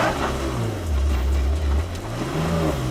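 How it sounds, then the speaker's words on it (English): A 2018 Porsche Macan's 3-liter turbocharged engine rumbles low and steady, rising and falling in pitch as it labors off-road over rough ground. "It is a 2018 Porsche Macan with 3-liter turbocharged engine"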